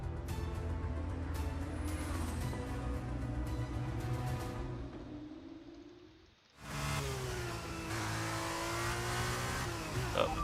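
A race car in the F1 23 video game pulls away on brand-new tyres, its engine screaming and climbing through the revs before a brief gap. Then it roars again at full, sustained volume, with no voices.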